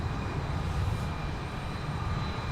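An Embraer 175 LR jet airliner of Delta Connection, operated by SkyWest, at Minneapolis–St. Paul Airport gives off a steady, fairly faint engine roar with a thin high whine running through it.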